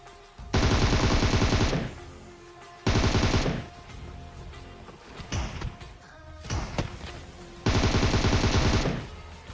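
Loud, near bursts of rapid automatic gunfire in a first-person shooter video game, three long sustained volleys of about a second each separated by quieter in-game shots and clatter.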